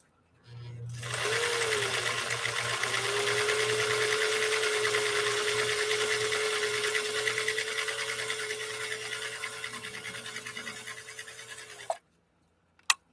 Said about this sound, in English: he's getting used to the sound of the sewing machine